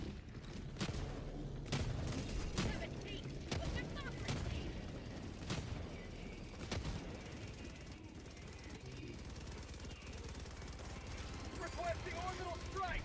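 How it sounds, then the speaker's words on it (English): Video game gunfire in Minecraft rattles out in quick, repeated sharp bursts and single shots across a busy, fairly quiet mix, with voices talking underneath. "All I hear from you guys over here is gunfire everywhere."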